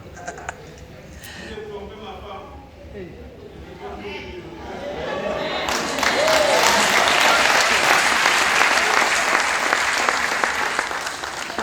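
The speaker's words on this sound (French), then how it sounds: "C'est là où tout le monde applaudit." Congregation applauding during a French-language church service, broad clapping swelling from about the six-second mark into a loud, sustained wash, with murmured voices and scattered sounds before it.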